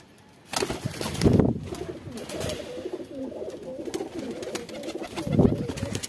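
Pigeons coo in low throaty bursts, with a couple of louder rumbling coos close by and soft rustling between them.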